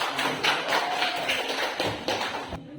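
A school class in a mining geology lesson claps together, a rhythmic series of clustered, fairly close hand claps lasting a few seconds.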